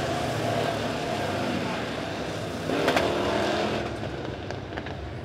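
USRA B-Modified race cars come off turn four at a dirt speedway, a dense engine roar that swells as they pass, with an announcer talking over it throughout.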